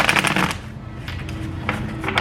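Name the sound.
shuffling tarot cards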